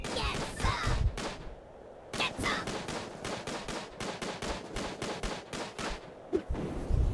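Rapid bursts of automatic gunfire in the top-down shooter game Tiny Troopers, a dense run of repeated shots with short pauses between volleys, loud and close throughout.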